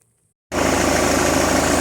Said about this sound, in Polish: silnik pracuje